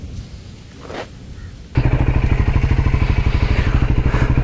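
A Triumph Scrambler 400X motorcycle engine catches after a short crank and settles into a loud, close, steady idle with a rapid, even thumping exhaust pulse.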